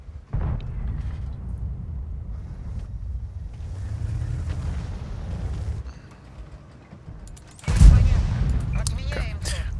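Tank cannon fire in World of Tanks during a T-103 match: rumbling engine and battle noise build to one loud, close blast late on, followed by scattered crackling.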